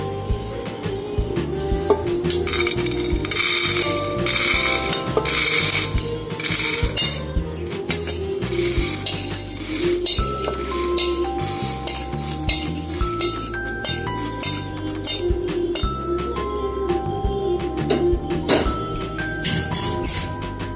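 Roasted val beans are tipped into a pressure cooker with a busy, close clatter of metal and dishes clinking and rattling throughout, with no voices.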